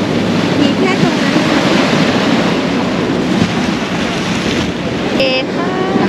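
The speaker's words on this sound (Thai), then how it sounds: "ได้ลมเช้าๆทะเลแรงมากเลยเช้าๆ" Strong sea waves break continuously on a beach, with steady morning wind buffeting the microphone into a dense, loud wash of surf and rumble throughout.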